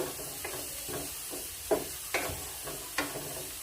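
Pieces of Kerala-style beef sizzle in hot oil while a utensil scrapes and stirs through them in a steady rhythm of knocks, a continuous frying hiss running underneath, close up and with no voices.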